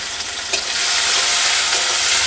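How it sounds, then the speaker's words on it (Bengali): Chopped onions hit hot oil for a chicken biryani, setting off a loud, close sizzle that surges after a brief clatter and then holds steady as a bright, continuous hiss, with no voices. "তেল আমাদের গরম হয়ে গেছে এবার পেঁয়াজগুলো দিয়ে দেব তো পেঁয়াজটাকে ভেজে নেব"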